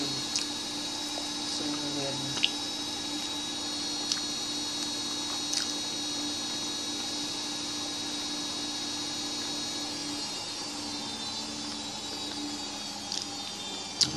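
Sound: washing machine running

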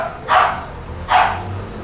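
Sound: corgi dog whimpering

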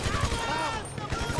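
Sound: fast rifle gunfire in video game GTA Online

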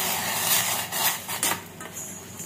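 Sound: stirring rose petal mixture in a pot

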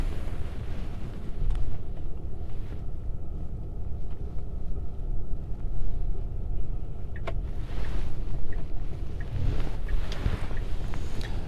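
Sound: car engaging reverse and moving

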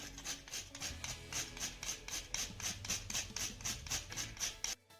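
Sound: grating nutmeg

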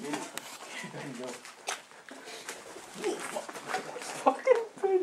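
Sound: pigeon cooing in a zombie video game

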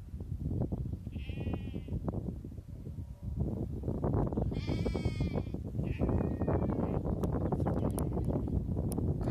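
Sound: ram bleating

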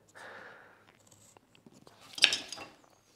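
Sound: knife carving wood along the grain

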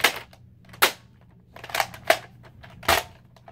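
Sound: toy Nerf pistol, like a Glock, being handled and fired

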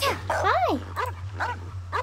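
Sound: dog barking in video game Genshin Impact

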